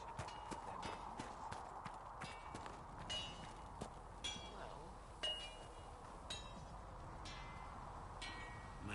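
Horse hooves clip-clop at a steady walking pace in the fantasy video game Dragon Age Inquisition, the clopping rhythmic and fairly close over an ambient game soundscape, with faint clinks of tack.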